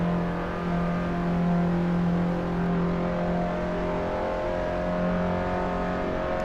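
A Fiat Abarth in Assetto Corsa, engine droning steadily at high revs with a sustained tone while holding near top speed, loud and continuous with no talk.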